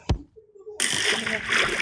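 Water splashes in the Minecraft video game: a short thump, then a sudden burst of bright, sustained splashing and sloshing that continues to the end, fairly quiet overall.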